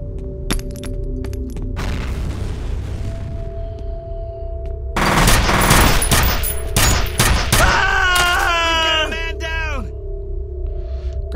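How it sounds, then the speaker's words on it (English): Shotgun fire in the video game FEAR: loud, close blasts cluster in a dense burst of several shots, with debris crackle and game tones around it. "That's a shotgun."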